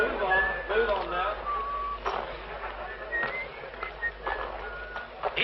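A man whistles a wavering, melodic tune in a 1943 crime thriller film, with voices and bustle from a crowded scene underneath.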